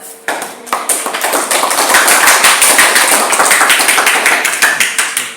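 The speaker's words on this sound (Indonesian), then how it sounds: "Aplaus semuanya." A classroom full of students applauds, a dense, even patter of hand claps that starts abruptly and holds steady, close and fairly loud, with no voices over it.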